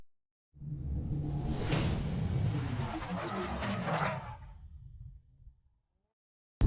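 A car drives along on a commute to work, giving a loud, broad rumbling rush of road and engine noise with a couple of swelling whooshes. It begins abruptly after a short silence and cuts off to silence near the end, with no speech.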